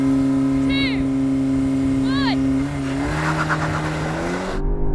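A Volvo and other cars, including a BMW M5, launching side by side in a drag race: engines rev up in rising sweeps, then roar together as they pull away, loud and close.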